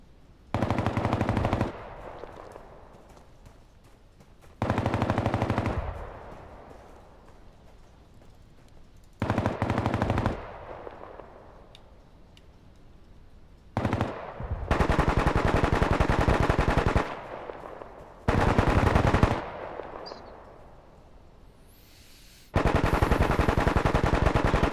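Machine gun fire in a military tactics video game: loud sustained automatic bursts lasting a few seconds each, separated by quieter gaps, repeating through the stretch with no talking.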